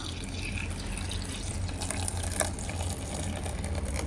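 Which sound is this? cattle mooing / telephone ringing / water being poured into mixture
water being poured into mixture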